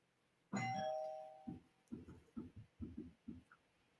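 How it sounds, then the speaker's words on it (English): A doorbell rings once with a sustained two-tone chime, followed by a few short, softer knocking-like thumps; close and clear in a quiet room. "Doorbell rang."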